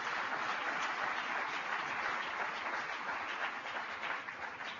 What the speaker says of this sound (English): So give Mr. Pete Rouse a big round of applause.